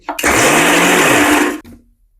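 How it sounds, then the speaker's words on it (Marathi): A mixer grinder whirs loudly in one short burst of about a second and a half, starting abruptly and cutting off, coarsely grinding peanuts and chillies. "हे मिक्सर मध्ये आता पिसून घेते।"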